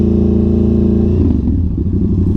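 Indian FTR 1200 motorcycle fitted with a new carbon exhaust, idling close by with a steady deep burble that shifts to a lower, lumpier throb partway through, loud and alone.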